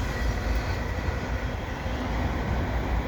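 The tail end of a slow-moving CN freight train with auto racks passes through Dorval near Montreal, a continuous deep rolling rumble at moderate distance with no talking.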